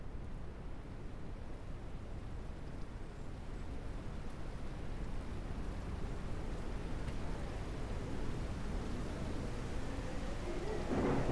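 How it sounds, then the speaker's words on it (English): A big windstorm howls in the video game SurrounDead, a steady broad roar of wind and noise that builds slightly toward the end, with no voices over it. "Big windstorm."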